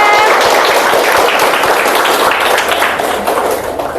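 A group of students and teachers claps together, loud, dense and steady, tapering off slightly at the end.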